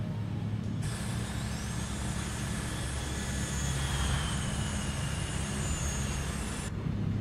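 Rans S6 light aircraft in Microsoft Flight Simulator 2024 rolling down a runway: a steady, close propeller engine drone with a constant low rumble and a high whine, holding level throughout.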